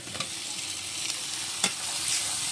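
Fried potatoes with turmeric being stirred and sautéed in a pan, a continuous sizzle broken by a few scraping strokes of a spoon against the metal, close by.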